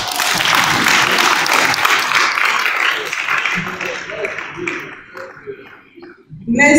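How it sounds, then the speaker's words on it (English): Applause from the crowd at a regional journalists' awards ceremony, loud and dense at first, then thinning and fading to scattered claps, with a voice briefly audible near the end. "I thought I'll get an applause for her"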